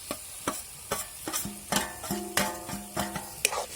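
Chopped onion being stirred into masala in a pan, with repeated close, sharp scrapes and taps of a spoon on the pan at a steady pace over a soft sizzle.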